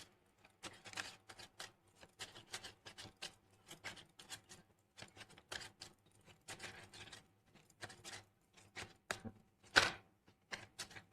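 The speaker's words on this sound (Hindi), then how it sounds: "शफल कर लेते हैं ऑप्शन टू" Tarot cards are shuffled by hand up close: soft, irregular riffling and slapping flutters in quick clusters, faint and dry, with one sharper snap near the end.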